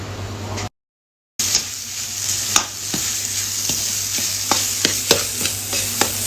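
Nasi goreng petai, rice with stink beans, being stir-fried in a hot pan, steady sizzling with repeated sharp scrapes and clinks of a utensil against the metal, close up.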